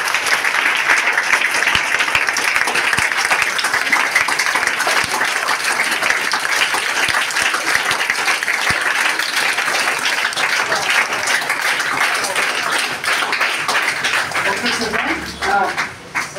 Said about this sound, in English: Why don't you clap?